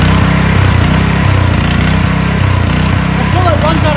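An Everbilt 5.5HP gas-powered utility water transfer pump's small engine runs steadily nearby, a loud continuous chugging drone with a regular pulsing rhythm filling the whole stretch.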